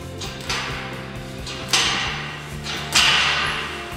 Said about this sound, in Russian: подтягивание мы будем делать с хлопком